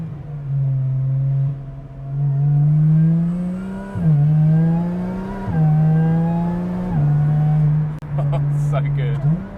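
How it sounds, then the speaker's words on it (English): A Lotus Exige 430 Cup in sport mode revs hard on the move, a loud engine note climbing repeatedly through the gears with brief dips at each shift, close and continuous. "put it into sport mode, get the revs up"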